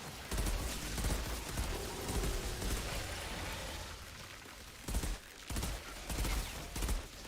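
Gunfire in the video game Outriders against a crowd of enemies, a quiet, busy stretch of shots that ends in a rhythmic burst of louder volleys.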